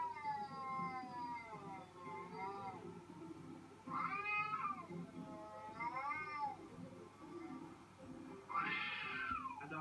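Two cats in a street fight yowl in long, wavering caterwauls, rising and falling in drawn-out howls that trade back and forth, fairly close, over a steady low background hum.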